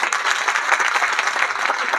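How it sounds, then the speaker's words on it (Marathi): The audience at a Marathi kirtan in Telangana breaks into dense, continuous applause, a bright crowd of many hands clapping steadily and loudly throughout without a break. "टाळी वाजवा त्यांच्या"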